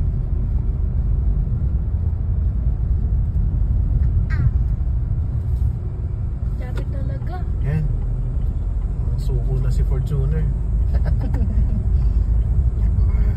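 A Chery Tiggo 5x Pro Comfort SUV climbing uphill from BitBit River in drive mode, giving off a steady, loud engine and road rumble that holds throughout while people talk inside the cabin.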